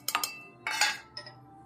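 Ginger is pounded into a paste with a traditional stone mortar and pestle (khalbatta). A few sharp, clinking knocks come in two quick clusters, then a lighter tap, close and fairly quiet, with no talking.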